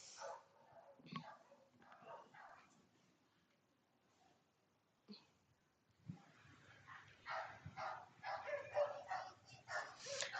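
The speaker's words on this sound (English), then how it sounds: "Do you hear all the other puppies out there?" Several puppies bark and yip outside, intermittent at first and then a denser burst of overlapping yaps toward the end, moderately near and loud.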